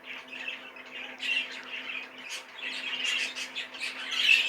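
A young hen squawks and chirps repeatedly while being handled, with harsh bursts of calls close by over a steady low hum.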